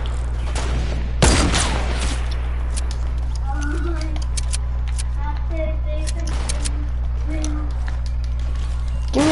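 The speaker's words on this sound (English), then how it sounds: "Oh, you think they're shooting at me?" Gunfire in a Fortnite-style video game: one loud, sharp burst of shots rings out early, followed by scattered fainter shots over a steady low hum.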